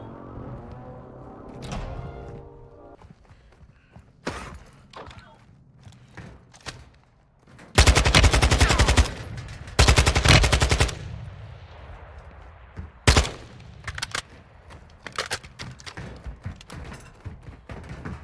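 Gunfire in Warzone 2, with two loud sustained automatic bursts mid-clip, scattered single shots and thuds before and after, and a quieter background of footsteps and movement.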